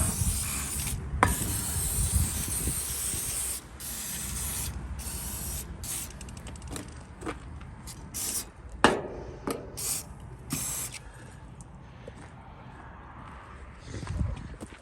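Bursts of aerosol penetrating oil hiss in short and longer blasts onto the chains and levers of a Massey 12 baler, close and loud, separated by pauses with some clanking and handling noises.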